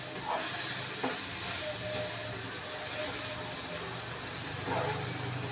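Gongura leaves fry in oil in a pan, giving off a steady, soft sizzle and hiss with faint occasional clinks from stirring, fairly quiet and constant throughout.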